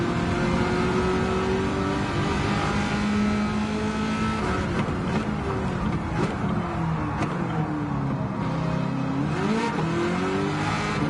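Race car engine in Gran Turismo 7 droning loud and steady, with pitch rising and falling through gear changes and corners on a low-grip track, no talk over it.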